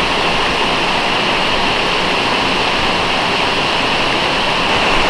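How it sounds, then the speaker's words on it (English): A 20-meter waterfall on the Chorrillo del Salto Trail in Los Glaciares National Park, Argentina, roars loud and close. The rushing water is a continuous broadband wash that stays constant throughout, with no voices. "Breaking the silence along the Chorrillo del Salta Trail is this 20-meter waterfall."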